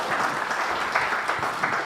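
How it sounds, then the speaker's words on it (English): Steady audience applause at a refugee labour-market forum in East Africa, dense even clapping filling the short moment. "So let's clap for"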